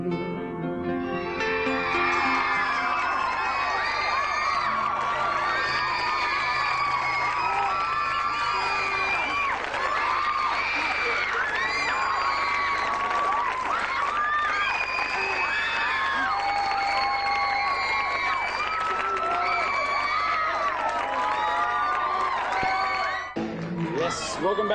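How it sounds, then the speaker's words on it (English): A studio audience cheers, whoops and applauds loudly and continuously after a live performance on a TV talk show, with the roar sustained throughout before cutting off abruptly at the end. "big round of applause"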